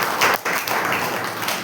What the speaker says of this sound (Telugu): నమ్మిన వారు గట్టిగా మరొకసారి చప్పట్లు కొట్టండి.